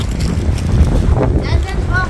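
Strong wind buffets the microphone outdoors at Beit Oren kibbutz in Israel, a steady low roar and rumble throughout, with faint voices mixed in.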